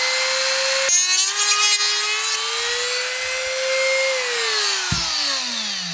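Close, continuous whine of a rotary cutting tool biting into an RC truck body around a magnet, its pitch dipping and climbing as the load changes, with a brief interruption near the start and another near the end.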